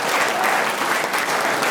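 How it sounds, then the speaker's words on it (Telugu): Loud applause for volunteers at a chess tournament, an even wash of many hands clapping at once with no break. "ఇలా గట్టిగా చప్పట్లు కొట్టండి."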